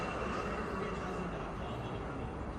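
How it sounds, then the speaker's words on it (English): Steady low rumbling rolling noise throughout, like a train moving along a nearby track, continuous and fairly even in level. "I've got a train track, that's what you hear in the background probably."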